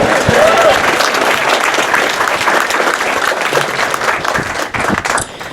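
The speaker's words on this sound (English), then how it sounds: "can I hear a warm round, really big applause from the crowd?" Wedding guests at a marriage ceremony break into loud, sustained applause, with dense clapping filling the space for several seconds and a brief voice near the start.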